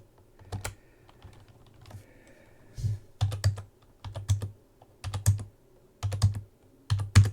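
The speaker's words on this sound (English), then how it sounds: "Discord is filtering out your keyboard" Bursts of computer keyboard typing during a streamed esports match broadcast, clustered keystroke runs with short pauses, fairly close and crisp, no talk over it.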